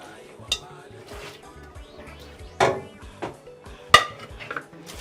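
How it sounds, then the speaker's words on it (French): Saucepan rinsed in a kitchen, with sharp clinks and clatters of pots and utensils at irregular moments over running background noise, a few louder knocks standing out near the end. "Maintenant, on va rincer notre casserole."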